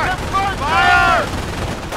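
Gunfire in the Normandy beach battle of Company of Heroes, a brief burst of shots under a shouted voice and whistling tones, loud and close over a short span.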